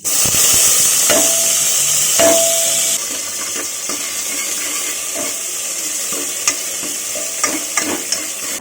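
Cumin, ginger, tomato, cinnamon and bay leaf hit hot oil with a loud, bright hiss that settles after a few seconds into a softer steady sizzle, with scattered clinks and scrapes of stirring near the end.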